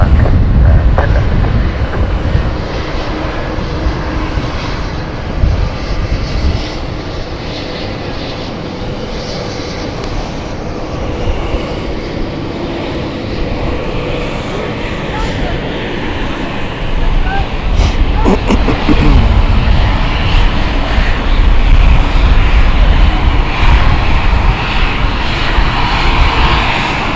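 A Swiss passenger jet on flight 434 rolls at London City Airport with a loud, continuous engine roar and rumbling wind buffeting that builds slightly in the later part, while radio voices talk over it.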